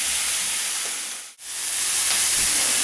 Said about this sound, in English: it's sauteing nicely and smelling good as well